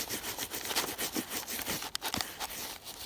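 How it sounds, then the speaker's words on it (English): A brush scrubs the dirty white parts of a motorcycle clean, giving repeated rhythmic rubbing strokes, close and fairly loud, with no voices. "All you gotta do is just scrub, scrub,"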